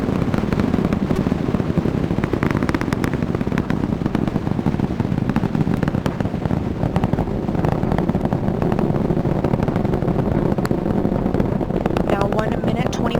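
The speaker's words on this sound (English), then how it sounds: "The 4 core stage engines are back at maximum thrust." Rocket engines on the core stage of the Artemis 1 launch vehicle roar in the Roblox game, a dense, continuous rumble filling the whole stretch without a break.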